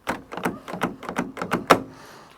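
Someone repeatedly tugs at the stuck, dented side door of a Volkswagen T4 van, producing a quick series of eight or so metallic knocks and clunks, the last one loudest, then quiet.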